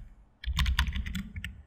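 Keys clatter on a computer keyboard in a short burst of close, rapid typing while text is entered in After Effects, with no talking.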